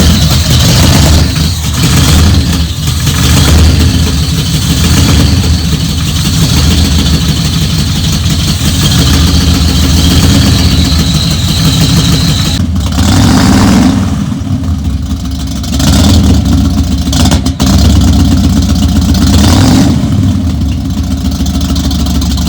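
A GMC C1500 pickup truck engine, fitted with a carburetor rebuilt three times and running poorly, starts and then runs steadily and loudly, a continuous close engine drone with slight changes in pitch throughout.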